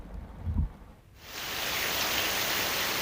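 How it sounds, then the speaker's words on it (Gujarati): Heavy monsoon downpour in Gir forest between Sasan and Talala, a dense steady roar of rain that swells after a brief lull and holds loud and continuous. "આ ગીર જંગલ સાસણ અને તાલાળા વચ્ચે ધોધમાર વરસાદ છે તે વરસી રહ્યો છે"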